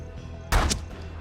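A single sharp gunshot in the Wild West strategy game Hard West, one loud crack with a short echoing tail over a quiet ambient background.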